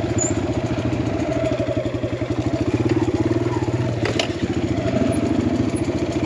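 An enduro motorcycle engine chugs in a steady, rapid pulsing rhythm while the bike rides down a steep cliff descent, loud and close, with a brief clatter partway through.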